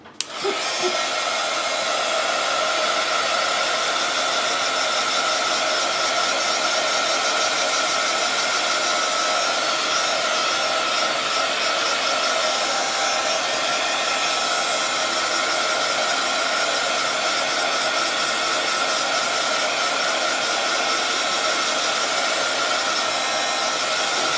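A hair dryer blows steadily over a Bible journaling page, a loud, constant close-up whoosh and whine that runs unbroken for the whole stretch with no voices.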